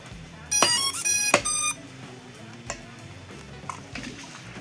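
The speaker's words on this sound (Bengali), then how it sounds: "এবার অন করে নেবো ড্রোনটাকে।" A Y3 Max drone powering on gives a quick series of bright electronic beeps lasting about a second, followed by a few faint ticks in an otherwise quiet room.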